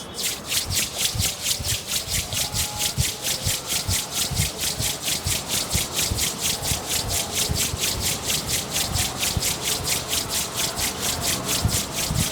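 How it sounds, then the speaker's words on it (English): Palms rubbed briskly together during a yogic breathing session, a steady fast back-and-forth swishing friction that repeats evenly throughout, close and moderately loud with no talking. "Rub your palms."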